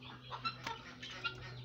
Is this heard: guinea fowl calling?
yes